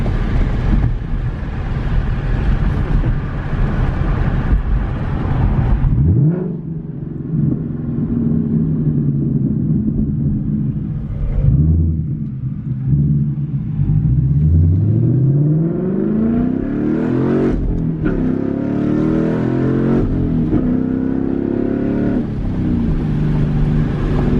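A 2021 Ford Mustang GT with an X-pipe exhaust rumbles loudly through a tunnel, its engine note rising and falling as it revs and shifts, the echoing roar sustained throughout without any talk.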